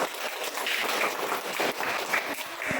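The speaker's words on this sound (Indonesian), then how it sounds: "Berikan aplaus." Classroom applause from a group of students, a steady patter of clapping lasting a few seconds at moderate level with no talking over it.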